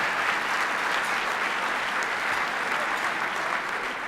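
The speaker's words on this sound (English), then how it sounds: "Let's have a round of applause for our public servants." Standing audience at a State of the City address applauding public officials, a thick continuous roar of clapping that stays steady and fairly close throughout.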